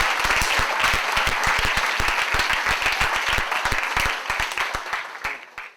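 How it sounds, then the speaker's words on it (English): Dense, loud audience applause for a speaker on a talk show, steady clapping from many hands that fills the clip and tapers off at the end. "Let's have a round of applause for..."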